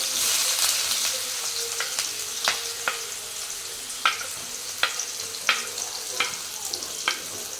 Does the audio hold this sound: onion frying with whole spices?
yes